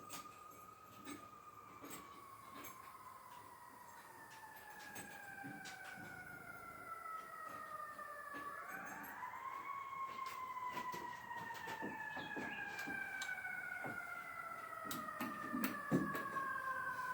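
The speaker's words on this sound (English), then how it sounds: "Fire trucks kept going up the hill." Fire truck sirens wail faintly in the distance as the trucks head up a hill, several overlapping rising and falling tones sliding in pitch, with scattered clicks and background noise around them.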